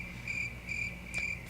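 Cricket chirping in bursts, three evenly spaced pulsing trills, clear and moderately loud over a faint low background hum, with no talking.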